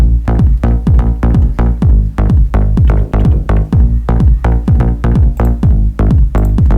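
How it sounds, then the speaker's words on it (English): A punchy four-on-the-floor house kick drum pounds steadily with a deep, rolling bass line locked underneath, loud and continuous with no voices. "We have kick and bass, and together it sounds like this."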